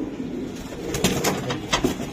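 Pigeons coo in a loft of white-tailed pigeons, with low, repeated throaty calls rising now and then over a steady murmur of nearby birds.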